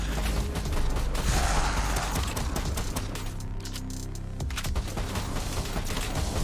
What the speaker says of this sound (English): The reloads are happening pretty fast now.